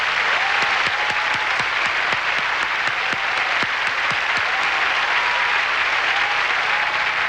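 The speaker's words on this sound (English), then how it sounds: "please join me in applauding all the contestants for the title of Miss Universe 1989" An audience at the Miss Universe 1989 pageant applauds the contestants in sustained, full applause with sharp individual claps standing out, faint whistles or cheers drifting over it, continuous throughout.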